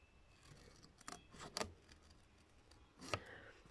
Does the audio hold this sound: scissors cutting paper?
yes